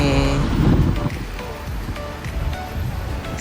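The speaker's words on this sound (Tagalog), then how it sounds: "grabe yung hangin, no?" Strong wind buffets the open top deck of a moving double-decker bus in Hong Kong, a loud continuous rumbling roar, with engine and traffic noise underneath.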